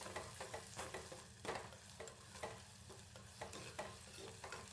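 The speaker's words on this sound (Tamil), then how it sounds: "இப்போ நல்லா பெரட்டி கொடுத்துக்கலாம்." A spoon repeatedly stirs sautéed onions and curry leaves in hot oil for dry fish thokku, a soft sizzle broken by regular scraping strokes, fairly quiet and with no voices.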